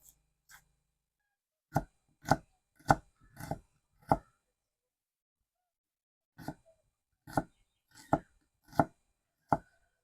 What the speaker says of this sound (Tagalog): Tapos maghihiwa din tayo ng sibuyas.